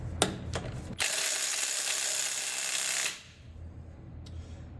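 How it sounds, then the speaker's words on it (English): A compact half-inch drive ratchet gives a short tick, then a loud, dense run of rapid clicking for about two seconds before it stops, up close with no talking. "First time using the compact half-inch drive."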